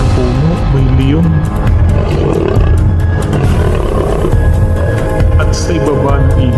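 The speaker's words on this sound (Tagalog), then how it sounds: "Sa baba ng puno, may leon." A lion roars repeatedly in the wild, deep throaty calls that are loud and close over a low rumbling background, with no talk over them.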